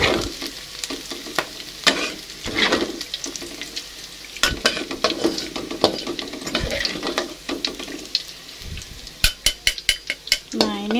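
Tempeh frying in oil in a pan gives a steady sizzle with stirring, scraping and clinks of a utensil against the pan, ending in a run of sharp metallic taps.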